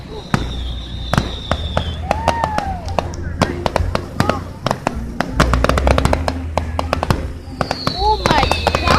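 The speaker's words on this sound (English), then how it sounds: "Join the fireworks." Fireworks crack and bang in rapid, irregular bursts with whistling rockets rising, loud and close, while people talk and exclaim over the blasts.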